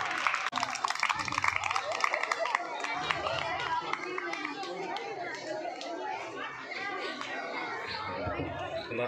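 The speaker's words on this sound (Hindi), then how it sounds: "जोरदार तालियां।" Audience clapping at a school event during a garlanding, moderate applause mixed with crowd chatter and a voice talking over it.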